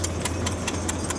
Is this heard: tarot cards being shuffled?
no